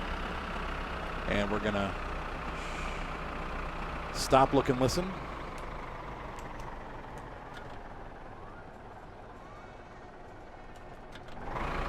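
Valmet tractor with a 3-liter straight-six diesel in the game My Summer Car, a steady low engine drone running throughout under a voice.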